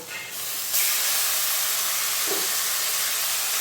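Boiled sweet pumpkin pieces drop into a hot pan, setting off a loud, steady sizzling hiss that swells after a brief first burst and then holds evenly, with no voices.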